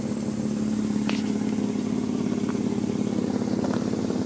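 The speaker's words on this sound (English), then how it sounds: "Motor sounds good." A 2000 Mitsubishi Eclipse engine idles steadily nearby, a low continuous rumble with a slight rough pulse, no talking.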